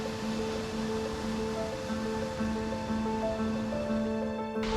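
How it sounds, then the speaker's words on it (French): A distant waterfall where a canalized stream drops, heard as a steady, far-off broadband rush with faint humming tones over it and no voices. "On devine la cascade là-bas au fond."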